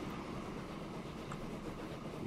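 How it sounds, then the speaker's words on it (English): A grain train runs along the rails in the video game Transport Fever, a steady low rumbling roll with faint rhythmic clatter, continuous and moderately quiet with no talk. "Let's follow this grain train for a spell."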